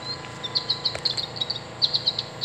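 American goldfinch call from a Wild Republic Audubon plush toy: soft, quick, high twittering chirps in short clusters, fairly faint over a steady low electronic hum.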